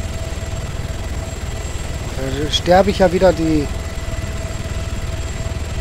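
A helicopter in the video game Arma 3 drones in a steady, low, pulsing rotor and engine hum, with someone talking briefly over it midway.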